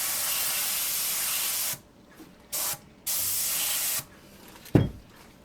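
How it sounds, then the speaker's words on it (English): Bursts of steady airbrush spray hissing while painting a model ship, with the airbrush backflushing, cutting off and restarting a few times, with quiet gaps and a faint click near the end. "It's going to spray."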